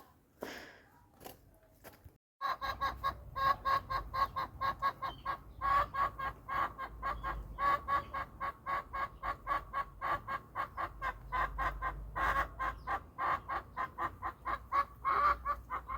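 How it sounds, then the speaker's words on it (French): Hens in a backyard coop squawk and cluck loudly and continuously, agitated by newly introduced hens, with rapid repeated calls building into a noisy chorus after a brief quieter start. "elles ne sont pas contentes qu'il y ait des intruses dans leur poulailler"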